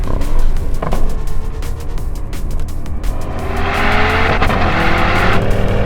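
An Audi RS Q8 performance SUV drives hard around a wet race track, its engine roaring loud and close with rising revs, gear changes and the hiss of tyres on wet tarmac throughout.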